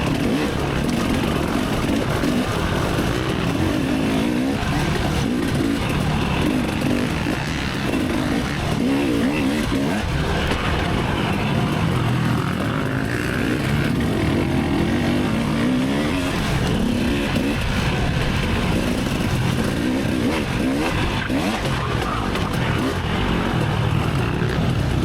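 A four-stroke dirt bike engine roars continuously during a hare scramble race at Mill Hill, loud and close with rising and falling revs and wind buffeting throughout, mixed with the drone of other race bikes nearby.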